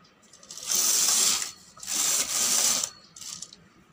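A knitting machine carriage knits a neck warmer with a Noddy cap in three sliding mechanical passes, each a bright rattling whir of about a second with short pauses between, close and fairly loud.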